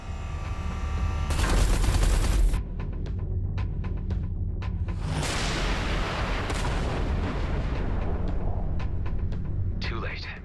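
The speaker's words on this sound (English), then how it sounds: "Watch out, the artillery." Heavy artillery fire in the space-combat video game Everspace 2: a loud sustained barrage of blasts, then a volley of sharp, rapid impacts and another burst of explosions, with game dialogue voices running underneath.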